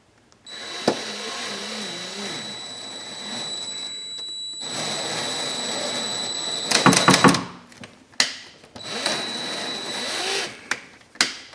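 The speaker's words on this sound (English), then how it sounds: "I'm gonna try tapping this hole. I'm using the drill" A power drill taps a hole on a Jeep XJ shock bolt mount, set to a light clutch: sustained whirring runs interrupted by a sharp ratcheting clutch burst, then shorter stop-start spins punctuated by clicks.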